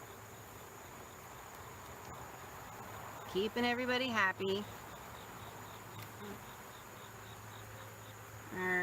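Honeybees buzz around an open beehive during an inspection, a low constant drone with brief louder surges as frames are handled, while a person talks quietly nearby.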